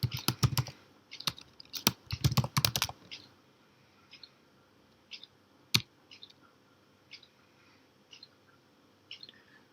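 Quick bursts of clacking keystrokes on a computer keyboard, dense at first and then thinning to scattered, sparse taps and clicks, close and clear with no talking.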